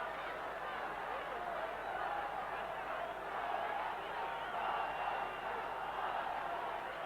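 A football stadium crowd at the 1990 Colombia versus USSR friendly hums with a broad, steady roar and murmur, a distant wash of cheering that swells slightly without sharp peaks.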